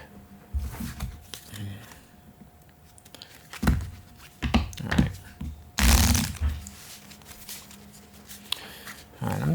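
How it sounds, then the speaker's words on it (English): Playing cards are shuffled quickly during a solo tabletop card game, with several short papery riffles and bursts standing out over quiet room sound and some faint talk. "I'm just doing a quick shuffle here."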